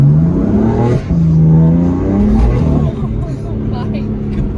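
Hard acceleration from a BMW M4 during a pull, the engine note rising steadily and loud throughout with brief gear shifts, while people talk and exclaim over it from inside the car.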